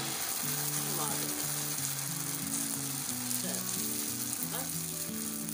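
Maize roti cooks on a hot pan for Punjabi sarson ka saag, giving a constant close sizzle and frying crackle, with faint tonal background music underneath and no voices.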